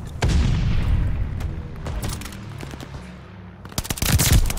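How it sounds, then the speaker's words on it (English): A video-game firefight with a grenade and a stun grenade going off, loud booms at the start and end, and rapid bursts of gunfire crackling in between, some near and some distant. "Throwing grenade! Throwing stun grenade!"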